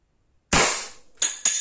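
Artemis CP2 4.5mm CO2 air pistol firing in the dark, one sharp loud crack after silence, then two quicker shots close together, each with a short ringing tail.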